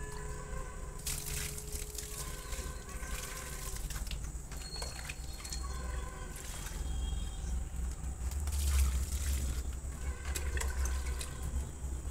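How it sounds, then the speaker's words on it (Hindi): Water pours and splashes onto flowers for a sustained stretch, running steadily with gurgling surges and occasional clinks, close and fairly quiet with no talk. "अब हम ले चलते हैं और फूल में पानी डालेंगे"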